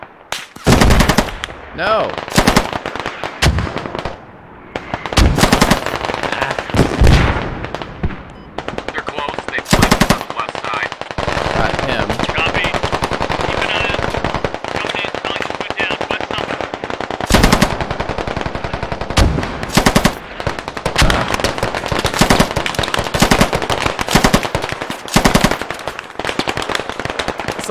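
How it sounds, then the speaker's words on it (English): Machine gun fire from the video game Squad in a chaotic 40 vs 40 firefight, with rapid sustained bursts and scattered single shots, loud and close, and a brief shout from a voice. "that guy is shooting at me for sure"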